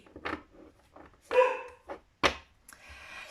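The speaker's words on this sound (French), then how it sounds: "Excusez-moi, ma chienne aboie." A pet dog barks several times indoors, sharp loud barks spaced irregularly with quieter yips and whimpers between them, no talk over it.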